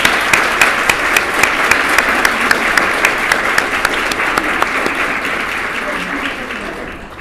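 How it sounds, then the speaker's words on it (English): An audience at an award ceremony for student employees applauds loudly and continuously, a dense wash of many hands clapping close by that holds steady and then tapers off slightly at the end. "We can applaud now."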